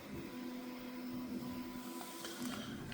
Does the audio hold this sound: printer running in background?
yes